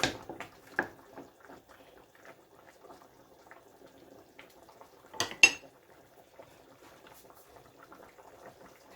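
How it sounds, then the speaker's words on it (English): A lid is set onto a pot of simmering Jamaican cow foot stew with broad beans, giving one sharp metallic clatter midway over a steady, faint background of gentle bubbling and kitchen clinks. No one speaks. "So I'm gonna cover my pot and allow it to simmer for another like 15-20 minutes."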